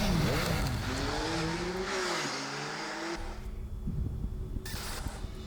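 A Yamaha R9 motorcycle engine with stock exhaust revs hard, its rising and falling pitch sweeping up and down through gear changes, loud and fairly close.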